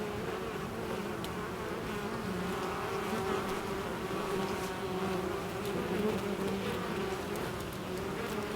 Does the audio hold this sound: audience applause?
no